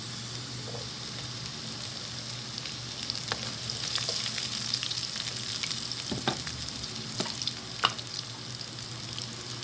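Garlic and onion frying in a pan, a soft continuous sizzle with a low steady hum beneath and occasional sharp crackles and spoon scrapes, fairly quiet and close, no talking.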